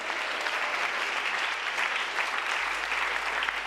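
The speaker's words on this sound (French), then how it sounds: "Au nom de Jésus, on peut acclamer le Seigneur" A congregation at a prayer meeting claps, giving a continuous, even wash of many hands from a sizable crowd, steady and moderately loud throughout with no talking on top.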